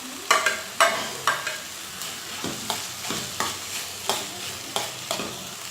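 Capsicum is stirred in hot oil for vegetable fried rice, a steady sizzle broken by regular scraping stirs of the spatula against the pan, about ten strokes in quick rhythm.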